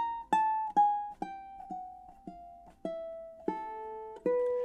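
Ukulele picking a Chopin nocturne line alone, each note plucked with clear harmonics, the phrase slowing with rubato and fading through a gentle decrescendo over about nine notes.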